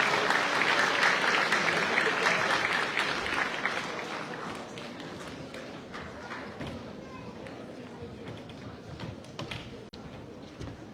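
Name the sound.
audience applause welcoming a speaker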